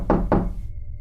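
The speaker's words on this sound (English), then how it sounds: "the knocking was not at my front door, but rather at my bedroom door" Knocking on a bedroom door at night: two firm, close knocks in quick succession, followed by a quiet room hum.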